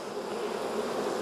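A dense, steady drone of honeybees fills a very crowded hive, a close, continuous buzzing hum without breaks.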